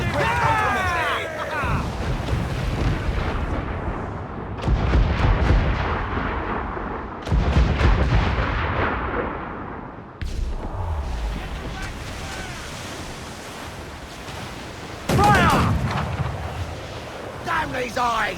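Ship cannons fire at coastal towers during a naval battle in Assassin's Creed IV Black Flag, with several loud booming blasts spread across the clip over ocean waves, wind and shouting crew voices.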